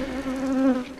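Honey bees buzz steadily around freshly made nuc hives, a close, continuous droning hum that holds a fairly even pitch and volume throughout the short moment, with no voices.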